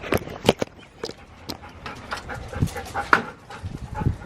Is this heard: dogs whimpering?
yes